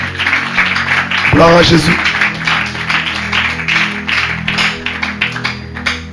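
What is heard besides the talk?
congregation applauding the Lord in church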